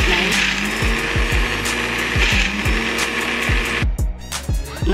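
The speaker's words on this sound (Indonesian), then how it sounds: "Kita mulai ngeblender ya guys." A kitchen blender whirs steadily as it purées sweet potato with coconut milk, a loud continuous motor roar with rhythmic low thumps of the chunks churning, briefly dipping near the end.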